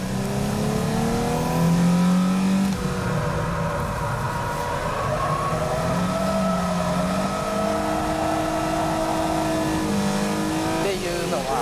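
Nissan 350Z drifting around Tsukuba circuit, its engine revving up and down through long sliding corners with rising and falling pitch, close and loud, with a commentator's voice faintly underneath.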